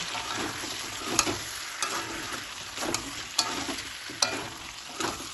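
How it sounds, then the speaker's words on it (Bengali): Chicken with spices and garlic sizzles steadily in a pan while a spatula scrapes and stirs in regular strokes about once a second, close and with no talking. "এবার সব কিছু ভালোভাবে কষিয়ে নেবে"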